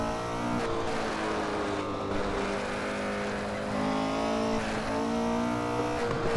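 A 1968 Porsche 908 LH race car engine drones steadily at high revs around the Nürburgring, a dense sustained tone with slight pitch shifts as the throttle eases and builds.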